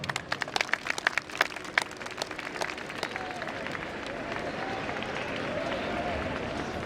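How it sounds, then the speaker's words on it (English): Audience applause at a school annual function, St Anthony's in Barabanki: sharp separate claps at first, thickening into a steady sustained round from a large crowd that holds loud to the end. "May I request the audience present over here to give them a huge round of applause."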